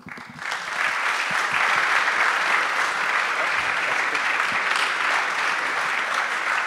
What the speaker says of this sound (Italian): Prenditi tutti gli applausi